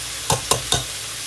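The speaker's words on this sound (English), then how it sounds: "We've got them frying up a little bit." Green beans with pork hocks in a frying pan, with three quick stirring scrapes about a fifth of a second apart over a faint, steady background sizzle.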